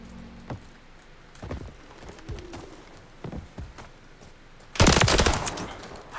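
Rapid pistol fire in a video game, a loud dense burst of shots near the end following scattered sharper cracks earlier, with quieter background between.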